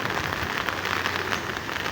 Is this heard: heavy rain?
yes